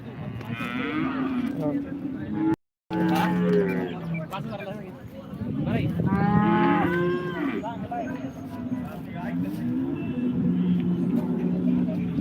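Heifers lowing repeatedly amid a noisy crowd, moos rising over constant chatter and background bustle of the busy outdoor cattle market at Modnimb, Maharashtra.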